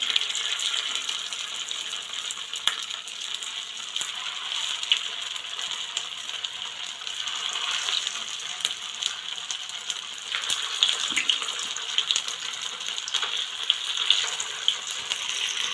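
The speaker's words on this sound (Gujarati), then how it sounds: "હવે આપણે આ મેંદુવડા નાખીએ ફ્રાય કરવા માટે" Semolina (suji) medu vada fry in hot oil in a pan, giving a steady bubbling hiss sprinkled with small crackles and pops, heard alone without talk.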